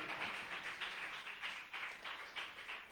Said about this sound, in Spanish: ¿Cuántos pueden darle ese aplauso al Rey de la Gloria?